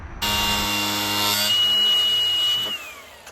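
A saw cuts material to fit a new dashboard, giving one continuous, loud rasping, buzzing run of about three seconds that starts abruptly and fades out at the end, with no voices.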